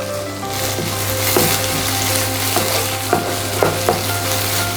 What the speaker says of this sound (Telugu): ఇప్పుడు ఉల్లిపాయ ముక్కలు వేసుకుంటున్నాను.